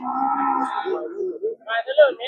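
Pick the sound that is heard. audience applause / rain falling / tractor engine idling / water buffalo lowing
water buffalo lowing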